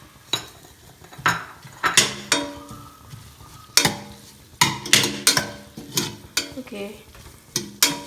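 Kashmiri chili powder being mixed into a cooking pot for biryani: repeated loud metallic scrapes and knocks of a spoon against the pot over a low sizzle, with a brief spoken word near the start.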